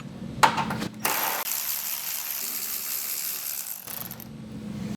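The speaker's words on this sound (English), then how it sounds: "Now we have 3 more 10mm bolts that we have to remove." Ratchet wrench clicking as 10mm bolts are backed out of a 2019-2024 RAM 2500/3500 HD truck bumper, a dense continuous ratcheting buzz running close and steady after a few sharp clicks at the start.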